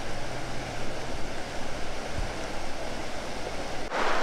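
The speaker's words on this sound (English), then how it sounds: "I found my first waterfall on the trip. Albeit it's a bit tiny, but it is a waterfall." A tiny waterfall in a Southern Illinois national park gives a steady, even rush of falling water, constant and fairly close, with a faint wind-like hiss and no voices.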